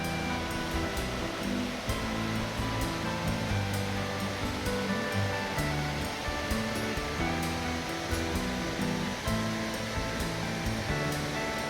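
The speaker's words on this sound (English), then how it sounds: "This is Quarry Falls, or also called Bust Your Butt Falls" Quarry Falls in Franklin, North Carolina, a waterfall sliding over rock, giving a steady broadband rush of falling water that stays close and loud throughout, with no talk.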